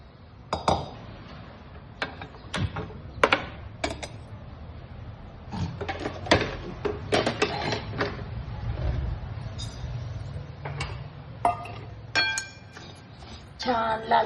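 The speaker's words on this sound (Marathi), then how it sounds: "तर आता आपण पहिल्यांदा जवस भाजून घेऊ" Flax seeds being dry-roasted in a pan produce repeated sharp clinks and scrapes of a utensil against the metal, irregular and moderately close, over a soft low rumble.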